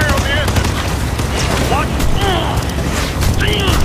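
Gunfire at a plane's engine in the video game Ghost Recon Future Soldier, as a dense, continuous barrage of shots and booms with engine roar and shouted voices mixed in.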